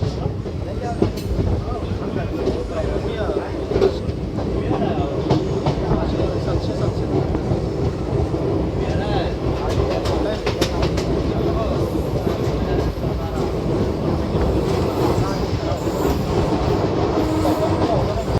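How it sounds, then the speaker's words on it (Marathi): The Koyna Express rolls into Karad railway station with a loud, sustained rumble of carriages and clattering wheels over joints, a steady close-up din with some voices murmuring faintly underneath. "कोयना एक्सप्रेससुद्धा आता कराड रेल्वे स्टेशनवरती अरायवल करत आहे"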